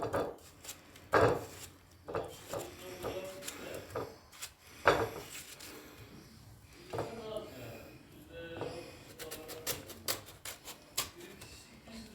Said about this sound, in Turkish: Şimdi yemeğimizin üzerine yemek için de karpuzumuzu doğrayalım